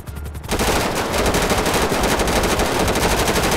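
A sustained machine gun burst fired in the video game GTA 5 starts abruptly after a brief quiet moment and continues as dense, loud, rapid gunfire to the end, with no talking.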